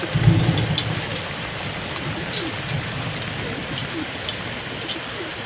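Dense, steady patter of rain and hail on surfaces, constant and close, with faint bird calls in the background.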